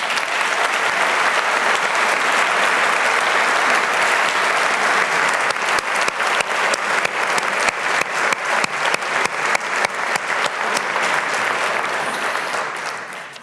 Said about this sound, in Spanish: querría dedicarles, si os parece bien, un fuerte aplauso